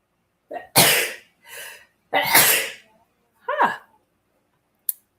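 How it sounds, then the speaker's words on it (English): A sharp, forceful sneeze preceded by a quick inhale, followed by a sigh-like breath and a short vocal sound; close and loud against a quiet background. "oh my God, I got to sneeze"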